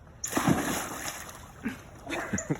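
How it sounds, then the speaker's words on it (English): A person wearing a life vest jumps into open water, producing a sharp nearby splash followed by sloshing and a few smaller splashes. "jump into the water"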